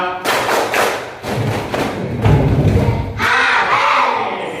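Children clap their hands in time with a song during a classroom teaching practice lesson, several loud, thumping rounds of claps.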